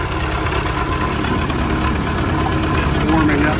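A Ford Model A engine idles steadily while warming up, a continuous close mechanical rumble and vibration, with a voice talking over it.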